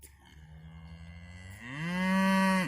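A heifer moos loudly and close by, one drawn-out call that swells and holds, following a stretch of lower bovine grumbling.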